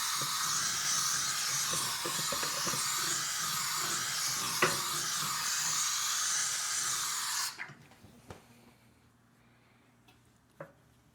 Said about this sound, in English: it's a steam cleaner.